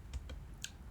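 A few quick keystrokes on a computer keyboard in Excel, three light, close clicks within a second over faint room noise.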